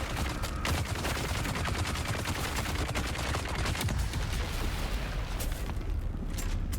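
Grenade blasts and sustained gunfire in the video game Dune Awakening. Loud, dense fusillade with rapid overlapping shots and booms runs continuously throughout.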